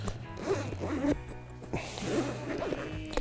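A zipper on a camouflage Fox Rage Voyager welded fishing accessory bag is pulled several times in short rasping runs, close and clear, with light handling knocks in between.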